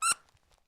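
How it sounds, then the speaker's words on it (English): A single short, sharp squeak rings out bright and close at the start, then fades into faint soft rustling. "We got a little squeak."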